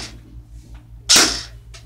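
A G&G ARP9 airsoft gun fires into a chronograph, a single sharp, loud crack standing out against a quiet background, with a couple of softer noises before and after it.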